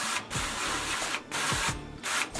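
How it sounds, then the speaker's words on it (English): Cooking spray hissing onto a baking sheet in several long continuous bursts separated by brief pauses, close and loud, with no talking over it. "Some cooking spray."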